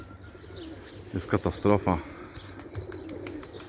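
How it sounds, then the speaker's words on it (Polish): Pigeons coo and flutter close by at an evening loft, one throaty rolling call standing out briefly among softer bird sounds, while someone speaks over them. "Gołębie się dopiero schodzą, zobaczcie."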